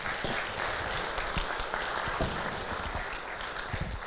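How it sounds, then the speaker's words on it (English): At a club meeting, an audience applauds steadily for a person coming up to a lectern, a dense even wash of clapping from a moderately distant crowd. "Give her a huge round of applause."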